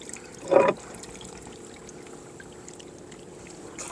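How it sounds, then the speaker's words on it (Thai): A weighted fish trap drops into the water, making a single short, close splash and then quiet, steady water ambience. "โอเคลงน้ำเป็นที่เรียบร้อยนะครับลูกที่ห้า"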